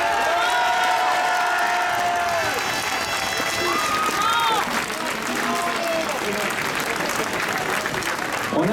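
A crowd of several thousand at a pension reform protest in Lannion claps and cheers continuously, dense and loud, with voices and shouts mixed into the applause.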